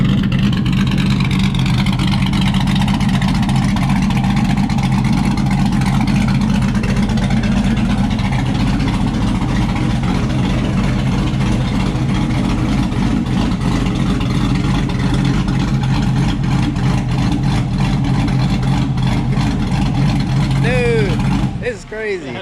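A trike fitted with a swapped LS V8 engine runs loud and near, a deep continuous rumble that surges and holds for a long stretch before cutting off, with people talking over it.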